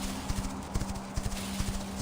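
Horse hooves clip-clop in a steady walking rhythm in the video game Quinfall, fairly close and clear, with no talk over them.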